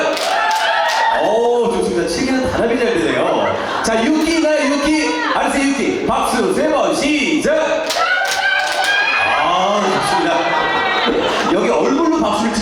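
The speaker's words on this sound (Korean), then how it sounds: "치기 박수 세 번 시작." Audience in a Korean cheer session clapping in short sets of three amid loud cheering, laughter and crowd chatter, with an MC talking over the noisy, dense crowd.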